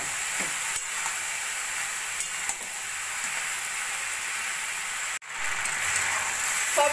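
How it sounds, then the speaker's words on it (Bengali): Winter vegetables with beans and chopped tomato frying on a medium flame, a steady close sizzle broken by occasional scraping stirs and one sharp momentary dropout before the crackle resumes. "সব সবজি দিয়ে মিডিয়াম ফ্লেমে আমি এইভাবে নাড়া দিয়ে দিয়ে ভাজাটা করে নেব"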